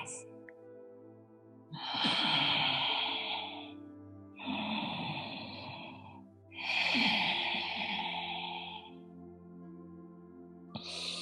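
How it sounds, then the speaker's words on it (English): Slow, deep breaths during a yoga class, three long drawn inhales and exhales in a row, close and fairly soft, with steady low background tones. "Deepening your breath."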